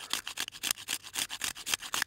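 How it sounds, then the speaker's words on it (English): Fat lighter wood, resin-rich pine knot, scraped on a Smith's tinder maker, giving quick repeated rasping strokes in a steady rhythm of about four per second, close and moderately loud with no talking. "And you just grate that stuff on down."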